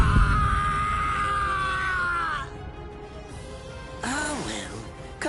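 A male character in the PS5 game Bleach Rebirth of Souls screams in pain, a long strained cry followed after a pause by a second wavering yell over game background noise.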